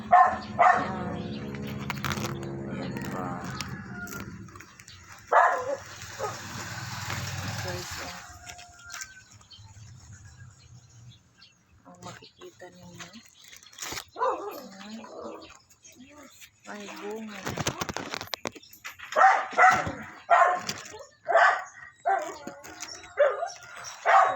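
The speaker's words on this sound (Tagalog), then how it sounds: "maingay ang aking aso" A caged, tied-up dog barks and yips in bursts at close range, with whimpering between, alongside stretches of people talking.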